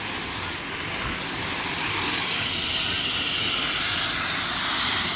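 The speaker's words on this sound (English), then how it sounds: "I'm rinsing my collard greens outside here." Water rinses collard greens outdoors, a steady broadband hiss and splash that runs unbroken and fairly loud for the whole stretch, with no talking.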